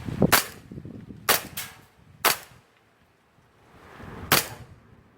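A BB gun firing 0.2 pellets: four sharp, close cracks spaced unevenly over a few seconds, each with a brief rattle of the mechanism.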